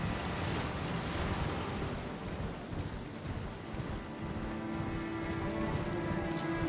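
Horse hooves pounding in rapid, steady gallop in Elden Ring, a continuous rumbling thud mixed with windy rushing noise, moderately loud and unbroken.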